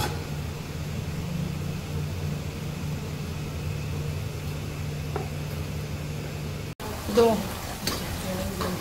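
Pieces of fish fry steadily in a pan for an Assamese fish curry, a soft continuous sizzle with a faint low hum and a couple of clatters near the end.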